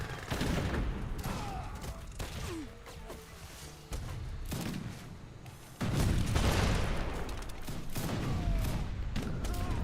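Artillery fire in the strategy game Age of Empires 3: Wars of Liberty sounds as repeated booming shots and layered battle noise, with several heavy thumps and denser bursts building toward the end.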